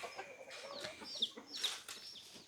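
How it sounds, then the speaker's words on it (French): Chickens clucking and squawking in short, scattered bursts, fairly quiet and nearby, outdoors at Wat Umong in Chiang Mai, Thailand, with a sharp high cry or two mixed in. "Plein de petites poules partout."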